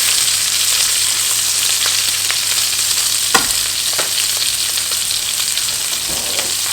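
Steak sizzling and frying steadily in a hot pan while being basted, a loud continuous hiss broken by a few sharper pops and spatters.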